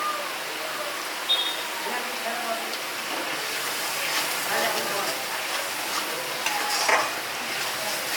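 Ground turmeric and spices go into a hot pan for a prawn malai curry made with fresh coconut, stirred through a continuous close sizzle of frying with soft scraping and bubbling.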